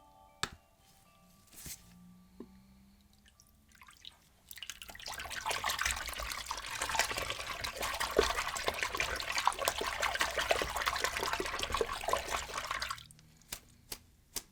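Water runs and splashes steadily over a bug-infested Sega Dreamcast console part for about eight seconds, a continuous close rush with drips and trickles, then stops; only faint handling clicks are heard before and after.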